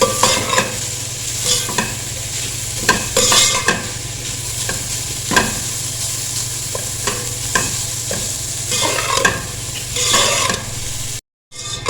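Grated carrots stirred and fried in a pan for gajrela, a steady close sizzle broken by repeated scraping strokes of a spoon, with no talking.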